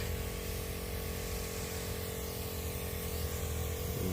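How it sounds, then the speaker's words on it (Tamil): Steady hissing spray of a plant growth promoter and insect repellent mix being applied to plants, a continuous even mist sound held at constant level throughout, with no talking. "இது மாதிரி இப்போ நம்ம ஸ்ப்ரே பண்ணுறோங்க."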